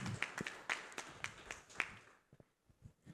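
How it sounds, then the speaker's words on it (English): Applause from the audience at a GDG Cloud Pune panel discussion event, scattered hand claps that thin out and fade to near silence after about two seconds, with a few faint taps at the end. "A big, big round of applause"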